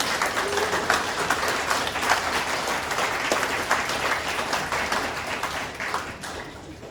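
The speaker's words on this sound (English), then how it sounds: "I think they deserve a round of applause for that." Sustained applause from wedding guests right after a couple's vows and marriage proposal at a ceremony, a dense steady patter of many hands that holds at an even level for about seven seconds, with no speech over it.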